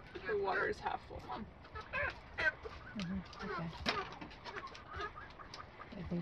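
Chickens clucking and murmuring close by, with a person talking quietly underneath.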